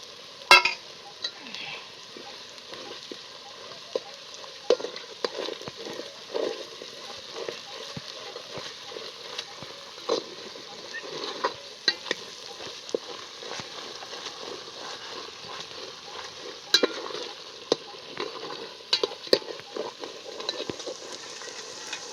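Whole spices and turmeric fry in a hot pan for Maharashtrian amti, a steady soft sizzle with scattered crackles and occasional stirring clicks, close and continuous with no talking.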